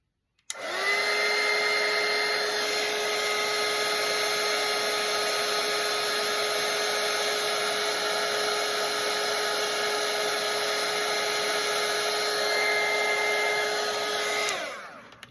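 A hair dryer blows steadily and loudly on a watercolour painting for about fourteen seconds, switching on and off cleanly at each end with no talking.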